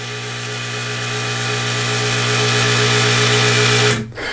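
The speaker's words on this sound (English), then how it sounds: "you can actually hear the motor energizing and opening up the valve" A motorized ball valve's small electric motor energizes and drives the valve open, a steady close mechanical whine with a faint tonal hum that runs for about four seconds and then stops abruptly.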